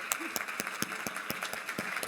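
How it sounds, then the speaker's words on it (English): Steady, evenly paced clapping from an audience, a moderate patter with a soft wash of crowd noise beneath. "Give him a round of applause."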